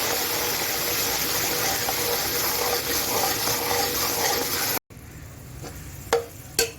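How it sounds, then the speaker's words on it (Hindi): Loud, steady sizzling hiss from water poured into golden-brown frying onions in a hot pan, lasting several seconds, then a sudden cut to a quieter room with a couple of light knocks. "प्याज को गोल्डन ब्राउन कर लेने के बाद इसमें थोड़ा सा पानी डाल दीजिए"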